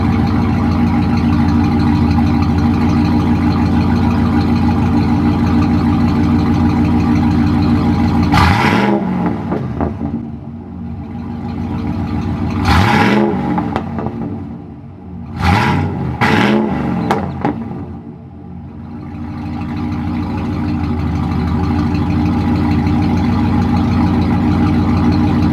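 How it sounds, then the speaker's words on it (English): A 1995 Ford F-150 engine idles steadily outdoors, then revs up sharply several times in quick bursts before settling back to a loud, even idle, recorded close from ground level with no talking. "I'll just set my camera down on the ground here and I'll just rev it up a few times."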